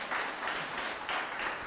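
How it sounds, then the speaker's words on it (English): Steady audience applause fills the whole stretch, dense and even with soft swells, heard from within the crowd at a conversation event. "Claps, claps, claps, claps,"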